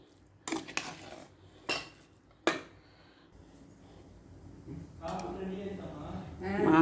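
Mango rice stirred in a metal pot, with a few sharp spoon-on-pot clanks followed by a softer, continuous scraping stir, close by, and speech over part of it.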